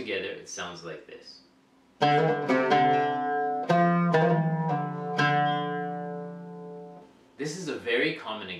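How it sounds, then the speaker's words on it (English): Stringed instrument played with hammer-ons and pull-offs in combination, a run of clear plucked notes sliding into one another with smooth legato changes, ringing out between short stretches of speech at the start and end. "This is a very common example which uses hammer-ons and pull-offs in combination."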